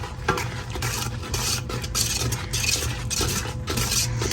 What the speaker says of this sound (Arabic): احنا حنضيف كوب ونبدي نخلط حتى ما تتكتل ويانا الطحين